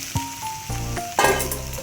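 Fried soybeans tipped into a pan of potatoes and spices set off sudden loud sizzling bursts, with brief metallic clinks of a spoon and surges of hiss as they land.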